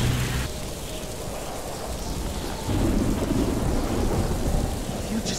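Rain pours steadily while thunder rumbles low in the Minecraft: Story Mode video game, a dense continuous storm wash that swells with a deeper roll partway through, with no talking.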